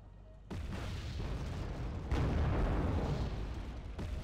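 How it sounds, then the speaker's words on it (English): Bombs exploding in Wargame: AirLand Battle, heavy booming blasts that rise to a louder, sustained rumble of detonations near the middle, with no break between impacts. "Go ahead and have some more bombs come in."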